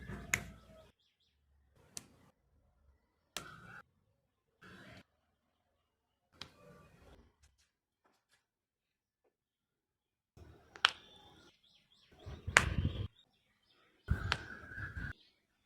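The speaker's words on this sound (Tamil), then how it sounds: "நம்ம உடம்புல ஒவ்வொரு மூட்டுக்களையும் எப்படி சொடக்கு போறன்றதை வாங்க பார்ப்போம்" Sharp joint and knuckle cracks during a traditional massage therapy session, a series of distinct snapping pops spaced a second or two apart, close and fairly loud, with quiet gaps and soft handling noise between them.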